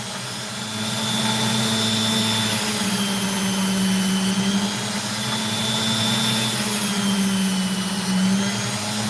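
A saw trims an opal with a steady whining, droning hum that holds level for several seconds, with a faint high tone riding on top and no talk.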